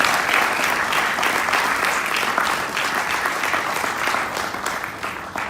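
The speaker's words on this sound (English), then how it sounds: "give yourself a round of applause one more time." Large audience at a Nation of Islam gathering in Los Angeles applauding, a thick sustained wash of clapping from a full hall that holds steady throughout without speech.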